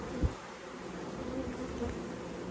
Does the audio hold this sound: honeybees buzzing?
yes